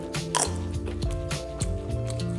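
Crunchy kerupuk crackers being chewed alongside a spicy squid and petai stir-fry, giving several sharp, close crisp bites in a quick uneven rhythm over a steady background tone.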